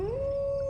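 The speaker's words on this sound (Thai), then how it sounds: "ใกล้ๆดอนปู่ตานั้นก็เริ่มมีเสียงหมาหอน" A single dog's long howl rising in pitch and then holding a steady tone, clear and fairly close, with no talking.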